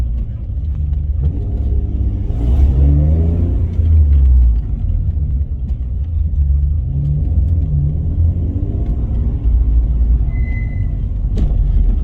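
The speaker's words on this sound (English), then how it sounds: "that engine revs nicely" An Alfa Romeo GTV engine rumbles close by and climbs in pitch as it revs a couple of times, with a low steady drone underneath.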